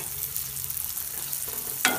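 Onion pieces and green chillies fry quietly in a pan, a soft steady sizzle with a single sharp utensil tap near the end, brief and fairly faint.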